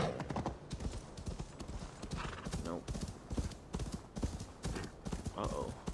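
Horse hooves clip-clop at a steady trot in Assassin's Creed Valhalla, a brisk rhythmic stream of close, distinct hoofbeats with an occasional whinny, while a voice talks over the game sound.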